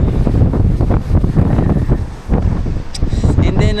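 Strong gusts of wind at a harbor buffet the microphone in loud, rough bursts, with faint water and engine rumble underneath.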